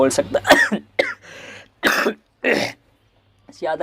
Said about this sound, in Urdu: تھوڑی سی کھانسی دکھ کر رہی ہے